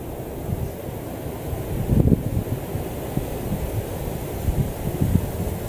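Wind gusts buffet the microphone with a low, rumbling roar, swelling briefly midway and again near the end.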